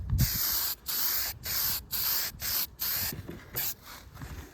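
Aerosol spray paint hisses onto a Ford 347 short block engine outdoors in a series of about seven short bursts with brief gaps, close and steady, with some wind noise underneath.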